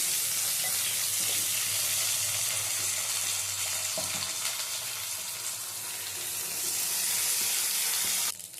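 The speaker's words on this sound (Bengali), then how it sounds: "তেলটা গরম হয়ে গেলে দিয়ে দেবো এর মধ্যে লবণ হলুদ আর চিনি দিয়ে মেখে রাখা বেগুনটা দিয়ে হালকা ভেজে নেব।" Eggplant coated with salt, turmeric and sugar frying lightly in hot oil, a continuous hissing sizzle held at an even level throughout and cutting off abruptly at the end, close and without speech.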